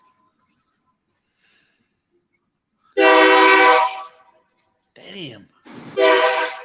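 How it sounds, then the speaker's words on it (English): A train crossing near a town park blasts its horn in two long, loud, close blares separated by a brief pause, with a voice briefly exclaiming between them. "There's a train cruising up right behind us."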